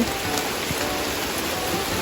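Steady rain falls on rubber trees in a plantation, a dense, even hiss of drops pattering on leaves and surfaces, close and continuous, with no one speaking.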